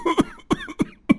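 Four sharp, dry coughs in quick succession, close and fairly loud, with short pauses between them.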